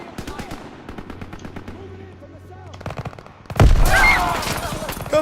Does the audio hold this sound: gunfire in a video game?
yes